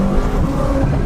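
A 700 bhp BMW M6 with an Armytrix exhaust rumbles deep and throaty with its valves open, loud and steady at close range.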